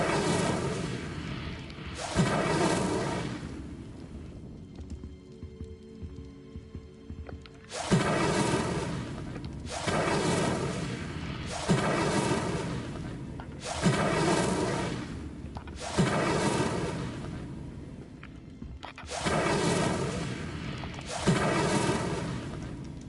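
Repeated Incendio fire spells are cast in Hogwarts Legacy, each a loud whooshing burst with a booming body, about nine of them in an uneven rhythm with brief lulls between.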